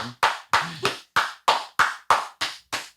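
Clap slapper novelty toy slapping nine times in a brisk, even rhythm, each crack sharp and loud at close range, with a short vocal sound near the start.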